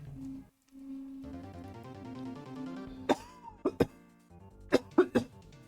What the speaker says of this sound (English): because I've been coughing a lot.